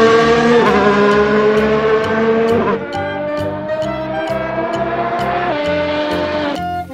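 A high-pitched toy Formula One race car engine whine rises and falls through repeated revving sweeps, loud and close, with a clatter at the end.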